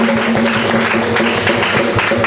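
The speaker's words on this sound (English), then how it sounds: "Give him a round of applause" Crowd claps for Mr. Governor at a steel band summer camp gathering, an even, sustained wash of applause with a steady tone underneath, moderately loud throughout.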